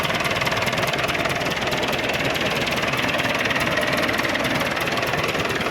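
A Massey Ferguson 185 tractor engine runs steadily at idle with a close, even knocking rumble and no break.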